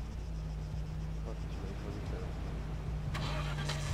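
In the game Altis Life, a car engine cranks and turns over amid a low steady rumble, with a sharp mechanical burst near the end; faint voices murmur underneath.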